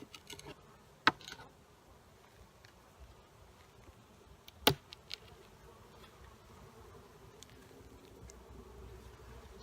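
Insects buzz steadily around an open beehive during a beetle check, a soft continuous hum with a few sharp close knocks and clicks from handling the hive.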